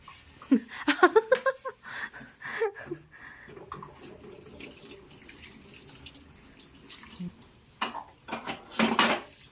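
Pots and dishes are washed at a sink while preparing lunch, with clattering metal, clinking cutlery and running water close by, and voices talking over part of it.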